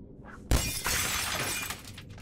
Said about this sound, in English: Oh, wait, can you break that glass?